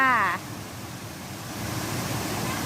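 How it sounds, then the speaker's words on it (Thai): A short burst of a voice gives way to the steady broadband rush of the first tier of Erawan waterfall, a continuous roar that swells slightly louder toward the end. "ตัวนี้เป็นชั้นที่หนึ่งของน้ำตกเอราวันนะคะ"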